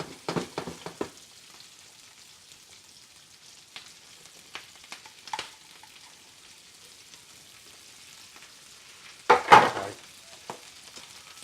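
Garlic and spring onions stir-frying in a wok for Chinese-style crispy beef: a faint, even sizzle with scattered stirring clatters and a louder burst of tossing near the end, no voices.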